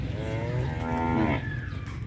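Cattle in a pair of bulls being offered for sale on a farm moo once, a long, loud, close bellow that swells and then fades, with no talk over it.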